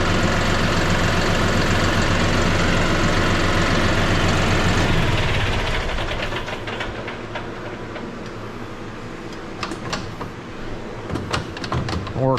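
John Deere 500M loader on a tractor runs steadily as the bucket curls, with a loud engine and hydraulic drone that drops in level midway, followed by scattered clanks and knocks.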